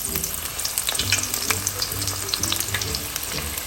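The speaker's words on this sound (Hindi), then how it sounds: "जब आपने इसमें पकोड़े शामिल कर देने हैं तो 2-3 मिनट तक इसको टच ना करें" Spinach pakoras fry in a pan of hot oil, giving a steady, close sizzle with dense crackles and small pops throughout; no one speaks.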